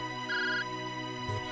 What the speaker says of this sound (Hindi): साहब, ये उसी का फोन है।